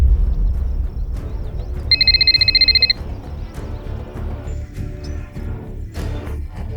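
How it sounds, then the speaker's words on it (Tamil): A telephone rings with one brief burst of rapid trilling tones during a call, loud over a steady low background rumble. "பயந்து போயிருந்த நித்யா கடைசியில் மிஸ்டர் ஷேடோவுக்கு போன் செய்தாள்"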